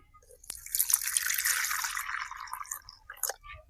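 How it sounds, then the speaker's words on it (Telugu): Water pours into flour for dough, a close trickling stream that swells, runs for about two seconds, then tapers into a few drips; no one talks. "నీళ్ళు పోసుకొని పిండిని కలుపుకుందాం"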